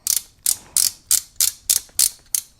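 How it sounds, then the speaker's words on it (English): Omoton MagSafe phone mount twisted onto a car air vent, giving eight crisp ratcheting clicks at a steady rhythm, close and clear with no talk. "you turn it in that direction, and that cinches it up against your air vent"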